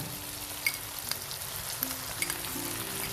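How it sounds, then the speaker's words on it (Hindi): Golden-browned chicken sizzling in hot oil after ginger-garlic paste and green chili paste are added, a steady close frying hiss with small crackles and occasional stirring clicks, no talk. "अभी इसमें मैं अदरक लहसुन की पेस्ट और हरी मिर्च की पेस्ट शामिल करता हूँ।"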